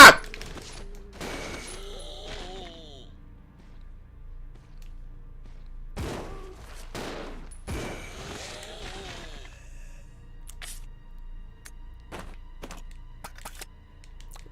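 Scattered gunshots in Resident Evil Zero ring out as several sharp, isolated reports spread over the stretch. Between them are quieter thuds and some voice-like sounds.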